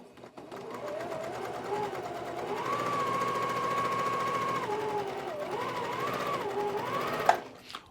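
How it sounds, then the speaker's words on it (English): A sewing machine runs continuously, stitching the folded edge of a quilt sleeve with a quarter-inch seam guide, its motor whine rising and dipping in pitch as speed changes, close and steady, ending with a brief clunk. "I'm just going to go ahead and run that through with my 1/4-inch seam allowance guide already set up"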